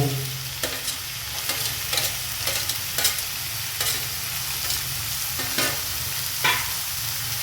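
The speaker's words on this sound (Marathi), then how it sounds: "टमॅटो पण आपल्याला चांगल्या प्रकारे मिक्स करून घेतो परतून घ्यायचे" Tomatoes and capsicum sautéing in a pan for homemade pav bhaji, a steady sizzle broken by regular scraping strokes of a spoon stirring the vegetables, close and clear with no voices.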